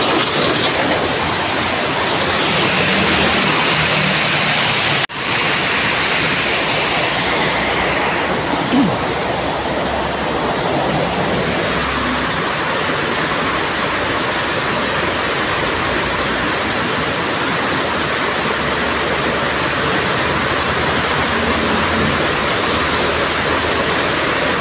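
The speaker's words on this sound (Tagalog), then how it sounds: "Lakas ng ulan eh." Heavy morning rain pours in a steady, dense roar, loud and continuous throughout, with a faint low rumble underneath.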